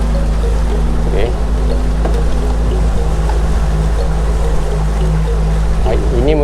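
Boat motor drones loudly and steadily as the boat is driven out at sea, with water rushing and splashing against the hull throughout and someone speaking over the engine.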